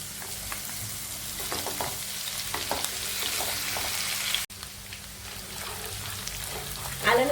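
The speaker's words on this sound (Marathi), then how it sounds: "आलं लसूण पेस्ट टाकल्यावर चांगलं 2 मिनिटं परतून घेतलंय लसूण।" Ginger garlic paste sautéing with onions in a pan, a steady close sizzle and frying crackle with occasional stirring scrapes, a brief drop in the middle and a louder burst of sizzling at the end.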